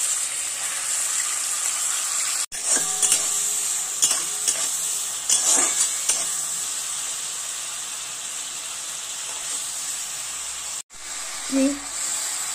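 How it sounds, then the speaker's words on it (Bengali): Shrimp fry lightly in hot oil for a Bengali potato-and-shrimp charchari, giving a loud, continuous close hiss with intermittent spatula stirring and clatter, and brief gaps where the sound cuts out. "তেল গরম হয়ে গেছে, আমি এখানে নেব বেশ খানিকটা চিংড়ি মাছ। এটাকে আমি প্রথমে হালকা করে ভেজে তুলে নেব।"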